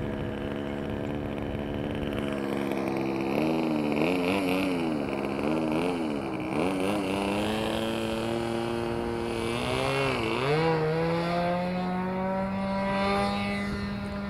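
A Sig Smith Miniplane model airplane engine runs at full throttle on takeoff at Hemet Model Masters in California, a loud nasal buzz whose pitch wavers up and down, then climbs and holds steady.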